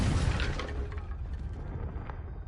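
A Confringo blasting spell goes off in Hogwarts Legacy, a single booming burst that fades into a rumbling tail, fairly close and heard alone without talk.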